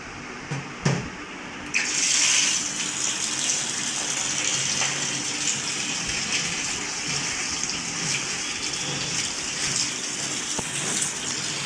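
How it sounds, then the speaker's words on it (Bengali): Vegetables rinsed in a colander under a running tap in a home kitchen, a steady close gush of water that starts after a brief pause and continues without talk. "এখন এই যে ধুয়ে নিচ্ছি।"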